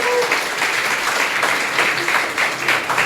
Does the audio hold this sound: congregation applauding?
yes